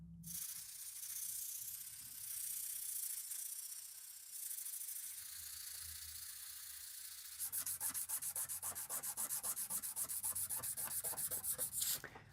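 Steel knife blade cut from a tablesaw blade being hand-sanded with sticky-back sandpaper on a stick: steady hissing scrubbing at first, then a run of quick, rhythmic back-and-forth strokes, close and fairly quiet.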